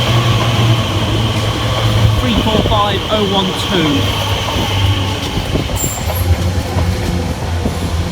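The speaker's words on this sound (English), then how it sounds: "the 10:15 Elizabeth line service from Shenfield through to London Paddington" Elizabeth line train passing on the Great Eastern Main Line, a loud close rumble with rhythmic wheel clatter and brief squeals, steady throughout while someone speaks briefly over it.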